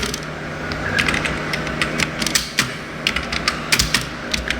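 Keys on a computer keyboard are pressed in a steady run of light, irregular clicks and taps, with a constant low hum of room or machine noise underneath and no talking.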